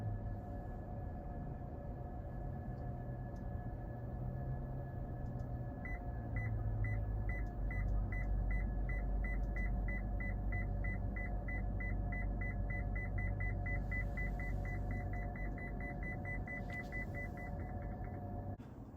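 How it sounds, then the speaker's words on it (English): Clearance sensor on a 2024 Toyota RAV4 Limited Hybrid beeping in a steady, rapid series of short tones, growing denser over time, heard inside the cabin over a low constant engine and road rumble. "these clearance sensors do also work as a backup sensor as well"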